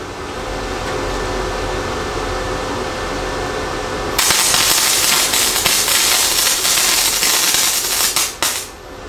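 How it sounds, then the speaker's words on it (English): A beginner's first practice weld with a welder: a steady background hum gives way to loud, broadband crackling and hissing as the arc strikes, running continuously for several seconds before sputtering out. "first ever attempt at a practice weld"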